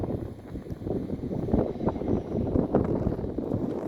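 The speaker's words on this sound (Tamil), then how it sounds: "நல்ல காற்று" Wind gusts across the microphone in soft, uneven rushes, fairly faint, with no voices over it.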